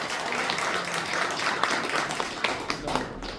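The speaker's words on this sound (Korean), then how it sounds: "뜨거운 박수 한번 다시 부탁드리겠습니다." Audience at a Korean tourism academic conference lecture in a university hall clapping moderately, with a few sharper claps standing out near the end; the applause sounds somewhat distant and roomy.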